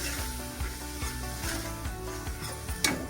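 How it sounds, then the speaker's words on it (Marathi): Cluster beans (gavar) roasting with salt in a hot pan make a loud, steady sizzle up close, with a spatula scraping and tossing them at a regular, roughly half-second rhythm. "चांगली चटणी गवार भाजून घ्यायची"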